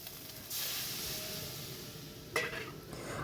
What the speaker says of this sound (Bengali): দেওয়ার পর আবার ভালো করে কষিয়ে নেব